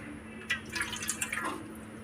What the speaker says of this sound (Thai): นำน้ำใส่หม้อก่อนค่ะ